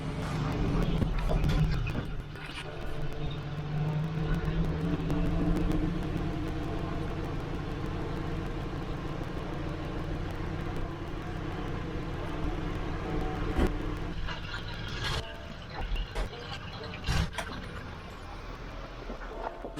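A hot rod car engine started on a cold 19-degree day, then running with a steady rumbling idle close by, with someone talking over it and a few sharp knocks late on.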